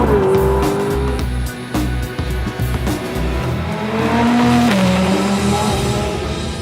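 A Ferrari 458 Speciale is driven hard on a race track, its engine loud and close, revving and shifting through gears with rising and falling whines and brief tyre noise.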